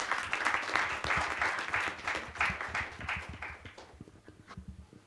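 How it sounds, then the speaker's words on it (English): Audience applause at a business conference on Indian alcoholic beverages in global markets, a dense room-wide patter of clapping that swells and then slowly thins out. "Big round of applause, ladies and gentlemen."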